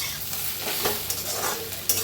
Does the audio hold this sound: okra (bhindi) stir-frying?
yes